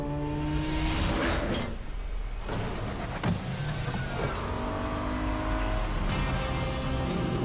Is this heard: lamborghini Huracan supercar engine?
yes